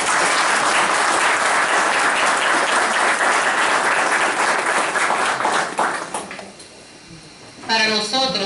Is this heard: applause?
yes